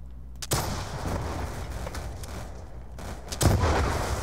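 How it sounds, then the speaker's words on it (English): A rocket launcher fired in Black Ops 2 on PC during a Gun Master match: two loud, sharp blasts with booming tails, one near the start and one near the end, over low rumbling game noise. "Now I gotta fucking fire another rocket."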